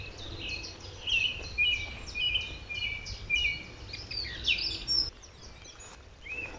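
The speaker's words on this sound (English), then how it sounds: "there are two song thrushes singing, one over this side and one more towards the barns up there" Two song thrushes sing outdoors near farm barns, repeating short, bright whistled phrases in quick bursts, moderately distant over quiet ambience.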